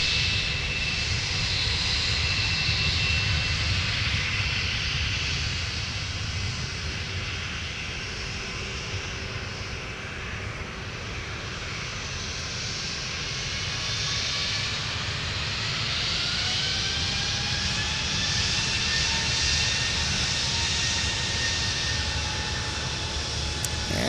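A Delta airliner landing on runway 12 right at MSP gives a sustained engine roar with gliding whine tones, loud and continuous throughout.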